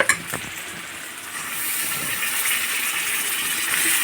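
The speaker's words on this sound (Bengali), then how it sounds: "এ পর্যায়ে আমরা অ্যাড করে দিব চিকেনটা" Chicken hits a pan of oil-glossed fried masala for masala chicken, a soft clatter followed by a steady, close sizzling hiss that swells and holds.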